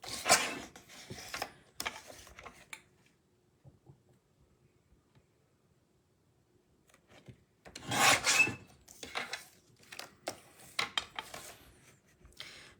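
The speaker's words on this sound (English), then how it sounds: "I'm gonna pull out my handy dandy little trimmer." A paper trimmer cutting printed cards gives bursts of scraping, rasping blade strokes, then a long quiet pause before another cluster of cuts and handling sounds. Nobody speaks.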